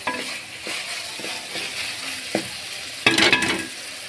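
Minced meat (keema) fries in oil with a close, continuous sizzle, and a spoon stirs and scrapes it through the pan at intervals, with a louder burst of frying near the end.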